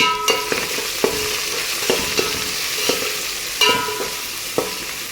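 Bagara rice is stirred in a pot after salt goes in, a constant sizzle broken by regular scraping knocks of a spoon against metal, close and clear, without speech.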